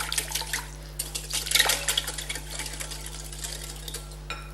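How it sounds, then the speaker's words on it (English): Dry muffin ingredients with chocolate chips whisked in a bowl, a quick run of light metallic scraping and tapping strokes, close and fairly faint over a steady low hum. "So we whisk these up."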